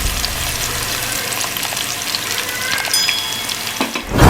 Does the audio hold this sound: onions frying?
yes